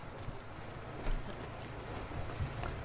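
Horse hooves clip-clopping in The Last of Us Part 2, a steady run of hoof falls over game ambience with one louder thud near the start.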